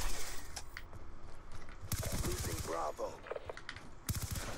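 Rapid automatic gunfire in the video game Call of Duty Black Ops 2, bursts of shots rattling over game sounds with a player's voice talking at times.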